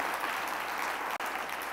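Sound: congregation clapping in church

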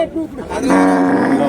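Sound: cows at cattle market

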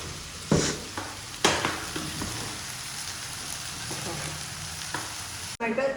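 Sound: stirring curry masala frying in a pan

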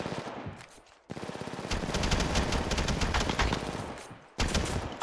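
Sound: gunfire in the video game Apex Legends

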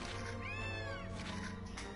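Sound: cat meowing in video game Gravity Rush Remastered

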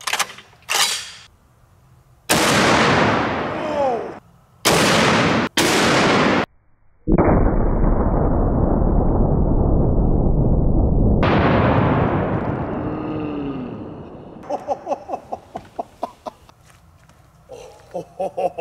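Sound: 50 BMG green tip round fired at 150 lb slam ball

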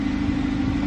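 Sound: Hyundai Sonata Hybrid regular engine running

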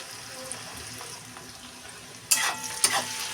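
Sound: onions frying and being stirred in a pan

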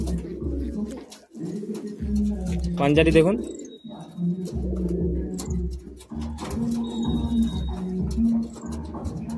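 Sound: Madrasi pigeon cooing

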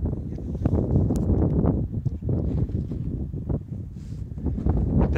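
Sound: strong wind blowing on mountain, Tongariro Alpine Crossing

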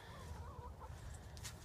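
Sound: chickens clucking in a chicken coop

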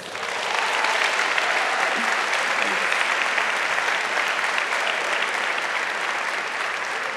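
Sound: audience applause

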